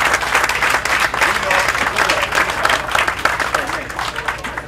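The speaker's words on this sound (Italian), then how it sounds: "ci vuole l'applauso per il comandante Rollo della nave Scirocco" Audience applause at an awards ceremony for Commander Rollo of the ship Scirocco, at the Coppa Lord Byron prize-giving. Steady, dense clapping fills the room throughout, with some voices mixed in underneath.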